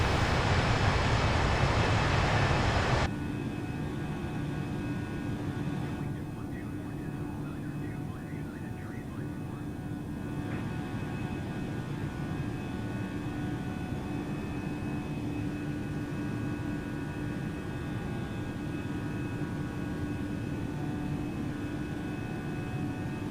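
Steady, loud jet engine roar from an Airbus A320 climbing in Microsoft Flight Simulator, with a louder burst in the first seconds before settling into a continuous hum with faint tonal whine throughout.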